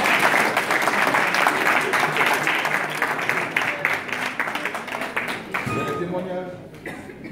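Congregation applause and clapping at a prayer meeting acclaiming Jesus, a dense sustained burst close by that tapers off near the end, where talking begins.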